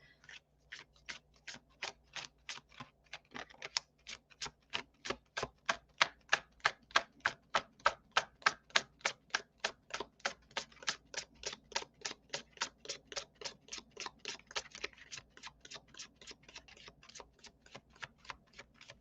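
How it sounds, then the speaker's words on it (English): Tarot cards from a Modern Spellcaster deck being shuffled at a live reading, a long run of rapid, evenly spaced crisp clicks and riffles that holds steady for the whole stretch and then grows a little looser near the end. "That was a good shuffle. Messy, but good."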